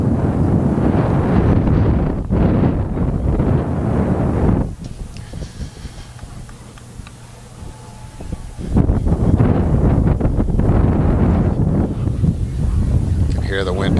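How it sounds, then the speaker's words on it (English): Wind buffets microphones mounted on a stadium roof during a night girls' soccer match, a loud, rumbling roar that fills the sound, easing for a few seconds in the middle before surging back just as strong. "You can hear the wind in the mics."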